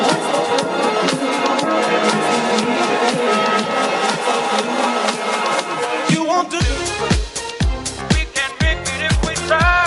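Electronic music drop processed with an Endless Smile delay, reverb and low-cut plugin: a dense, washed-out reverberant build that gives way to punchy, heavy bass and drum hits.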